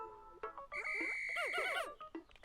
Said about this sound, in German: Ich halte einfach B gedrückt, um sie mit meiner Pfeife zu mir zu rufen.